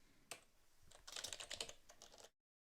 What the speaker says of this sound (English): type in the title of the application